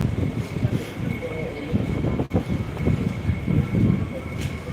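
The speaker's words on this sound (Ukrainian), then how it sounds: "вітер такий дує" Wind gusts buffet the microphone in low rumbling surges behind a steady faint tone, with a person talking intermittently.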